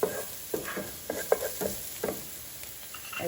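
Onions and garlic sizzling in oil in a pan while a utensil stirs and scrapes through them in quick, repeated strokes over a steady low hiss.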